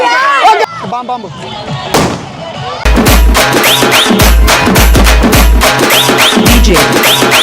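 Firecrackers burst repeatedly at a village Ganesh immersion procession, a run of loud close bangs and pops following a few seconds of voices and music.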